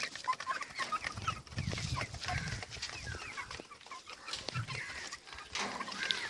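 Chickens cluck steadily inside modern poultry cages fitted with water drippers and egg trays, a busy overlapping chatter of many birds at moderate distance.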